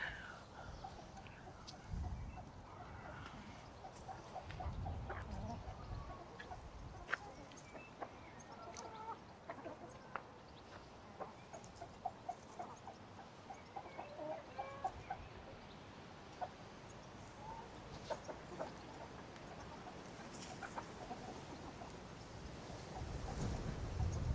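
Chickens cluck softly and intermittently in an outdoor garden enclosure at RHS Bridgewater, with faint ambient noise and a little distant voice.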